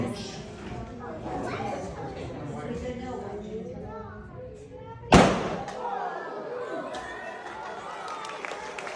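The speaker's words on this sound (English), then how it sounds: "The hydrogen gas is going into the tube, and I'm putting it on the launcher." A hydrogen gas rocket launched from a tube launcher at a science museum in London goes off as one sharp loud bang midway, with a crowd chattering before and after.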